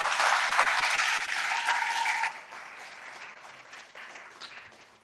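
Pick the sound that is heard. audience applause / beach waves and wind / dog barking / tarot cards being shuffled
audience applause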